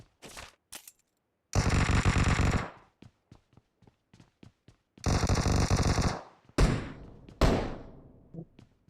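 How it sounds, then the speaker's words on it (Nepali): Gunfire from above in a PUBG fight, with loud close bursts of rapid automatic shots in two long volleys, scattered single thumping shots between them, and a few sharp reports fading at the end. "माथिबाट हानिरहेको डुडुङ डुडुङ"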